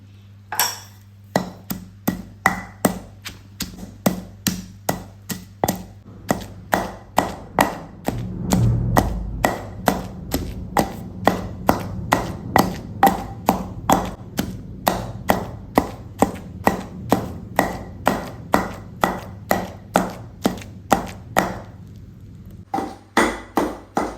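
Steady, rhythmic pounding of lentil-based ingredients for vadiyan in a kitchen, each thud sharp and close, repeating roughly once per half-second for the full stretch, with a slightly louder, busier patch midway.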